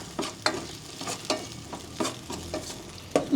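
Ginger, garlic and one green and one red chili sauté in a hot pan, with a spatula scraping in regular strokes about every half second over a soft, steady sizzle. No one speaks.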